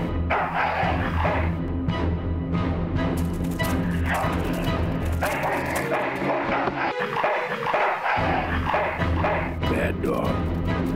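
A dog barks in the junkyard of the video game Full Throttle Remastered, sharp repeated barks and yips mixed with thuds and crashes, heard under people talking.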